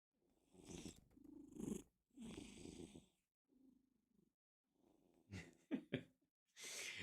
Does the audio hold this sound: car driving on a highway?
no